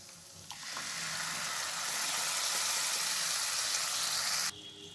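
Tomato paste hitting a pan of frying spice masala for matar paneer, a bright, loud burst of sizzling that swells and holds steady for several seconds before cutting off abruptly.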